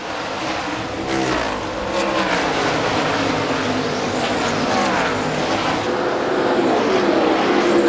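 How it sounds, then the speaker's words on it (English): NASCAR Busch Series race cars roar around the track during the 2001 MBNA.com 200, a loud, continuous engine drone whose pitch rises and falls as the cars pass. "84 car they've just gone around is Dion Ciccarelli"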